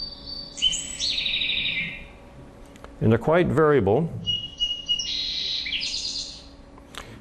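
Short, bright recorded songbird phrases, song sparrow songs of rapid trills and chirps, play at the start and end, with someone speaking briefly in between.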